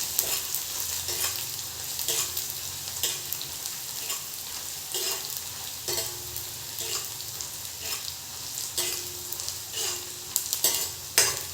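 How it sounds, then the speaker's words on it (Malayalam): Finely chopped shallots and curry leaves sizzle in hot oil for a shark curry tempering, stirred with repeated scraping strokes over a steady close frying hiss, no speech. "ചെറിയുള്ളി പൊടിയായിട്ട് അരിഞ്ഞും കൂടെ ഇട്ട് കൊടുക്കുക എന്നിട്ട് നന്നായിട്ട് ഇളക്കി കൈവയ്ക്കാതെ ഇളക്കിയിട്ട് അതൊന്ന് മൂപ്പിച്ചെടുക്കുക"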